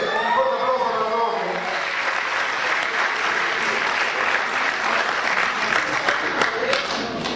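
Audience at a school music performance gives a strong, sustained round of applause for the band, loud and continuous throughout, with voices faintly mixed into the crowd noise.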